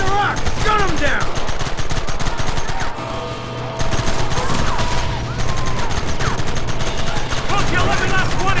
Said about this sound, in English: They're hiding behind the rock! Gun them down!